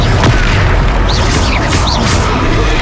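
In Hogwarts Legacy, a Confringo fire spell explodes in a loud, dense, continuous boom, with swooshing effects layered over the roar.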